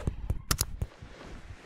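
Several sharp, booming bursts in quick succession from an explosion in an animated Green stick figure video. The blasts are loud at first, then fade into a low rumble.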